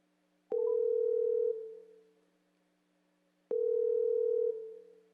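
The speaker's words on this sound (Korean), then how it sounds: "전화 연결 한번 해보도록 하겠습니다" Two long steady telephone dial tones separated by silence while a call is being connected, each starting abruptly, clear and alone with no talking.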